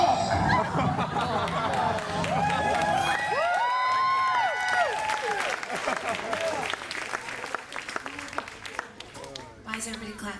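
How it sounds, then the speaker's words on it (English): An audience bursts into applause with cheering and scattered laughter during a live stage show, a dense, loud wash of clapping from a large crowd that runs throughout, with voices mixed in. "Why is everybody clapping?"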